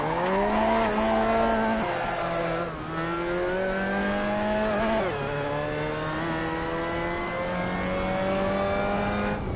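A McLaren 650S race car driven in Assetto Corsa, engine revving high through the gears with rising pitch sweeps and quick shift drops, loud and close, occasional tyre squeal.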